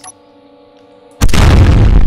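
Ship cannons on a Wyrm destroyer in the space game Space Engineers fire at once as one sudden, loud, sustained broadband blast that roars on after a quiet hum.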